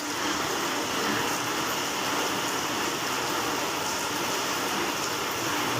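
Rain falls steadily in an Indonesian village setting, a continuous dense hiss and patter that holds evenly throughout with no voices.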